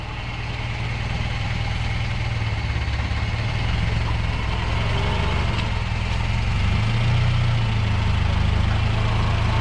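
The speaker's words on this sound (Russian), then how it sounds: "Обороты двигателя сейчас примерно 3." A UAZ off-road vehicle with straight axles idles steadily outdoors, its engine a loud, continuous low rumble close by with a slightly uneven throb and no talking over it.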